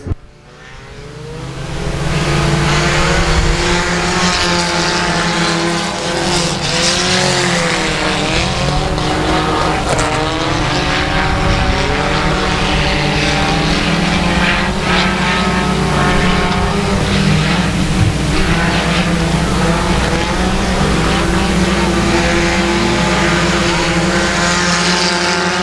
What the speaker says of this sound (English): We got 6 cars going 8 laps.